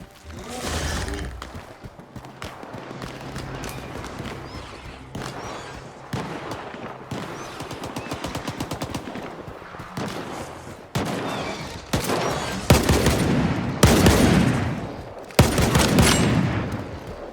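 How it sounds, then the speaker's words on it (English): Bursts of rapid gunfire and scattered single shots in the video game Stalker 2, some distant, some close and loud, with whooshes and mechanical clatter between volleys. "I know I hear gunshots, but they're not me."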